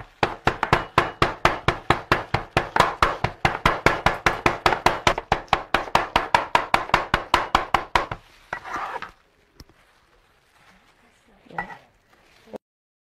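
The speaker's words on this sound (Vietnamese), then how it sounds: "lòng cá này mình sẽ phải à, băm nhỏ nữa thì nó sẽ ngậy ngậy mỡ mỡ ở trong bụng cá" Fish innards minced with a knife for Thai folded grilled fish (Pà pỉng tộp): a fast, steady run of crisp chops on a board for about eight seconds, then the chopping stops and only faint scattered kitchen noises remain.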